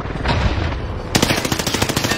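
Rapid automatic gunfire from a shooter video game, a dense burst of sharp, closely spaced shots that starts partway through and keeps rattling loudly to the end, with no talking.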